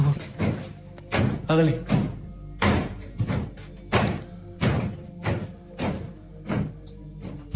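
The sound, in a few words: banging on a roof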